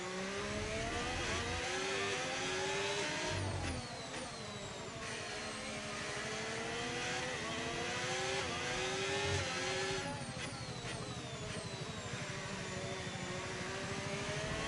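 Mercedes-powered Formula 1 race car engine in the F1 25 video game, a loud continuous high-pitched whine that climbs and drops through gear shifts, with no talking over it.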